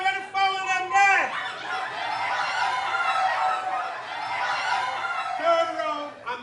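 An actor in a Jamaican comedy play mimics chicken clucking and fowl calls with his voice, a run of rising, bird-like squawks held over several seconds, loud and close, with a brief spoken interjection.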